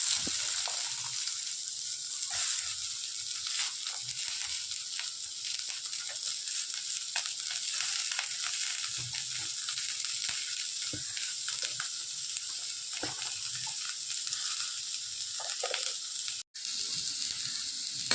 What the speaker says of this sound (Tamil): இப்போ எடுத்து வச்ச வெங்காயத்தை போட்டுக்கிறேன்